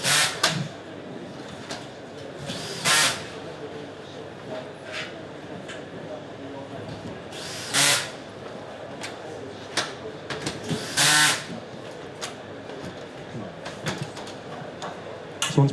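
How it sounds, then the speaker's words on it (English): A screwdriver tightens bolts on roof lantern sections, giving a few short bursts of tool whirring spread across a steady background with voices in it. "as he gets those bolts home with a screwdriver, it'll pull each section neatly into position"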